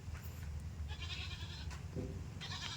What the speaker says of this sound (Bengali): 30 মতো ছাগল আছে।